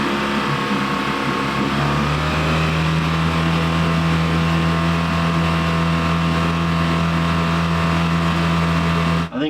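Boat outboard motor running steadily at a constant idle, its low droning hum loud, close and uninterrupted until it stops abruptly at the very end.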